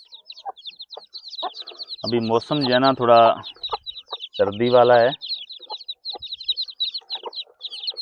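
Hens and a rooster on a Pakistani farm give repeated nearby clucks and chirps throughout, while someone speaks briefly in the middle over the birds.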